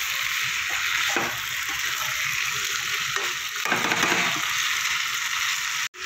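Ridge gourd, fried beforehand, being stirred with potatoes and cooked-down spices in a pan, giving a steady close sizzle with a few louder scraping stirs and no talking.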